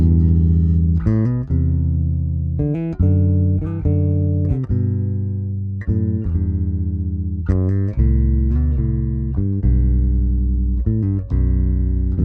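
Bowed string instrument, likely a cello, playing a Baroque-style chordal etude: full, resonant double stops and arpeggiated chords in a steady pulse, close and solo, with no talking.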